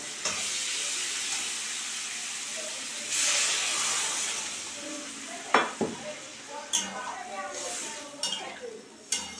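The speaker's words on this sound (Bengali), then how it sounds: "সজনে আলু দিয়ে কষানো হয়ে গেছে এখন আমি জল দিয়ে দেব" Water goes into a hot pan of sautéed drumstick pieces and potatoes with a surge of loud hissing, followed by sharp clinks and scrapes of a utensil against the pan.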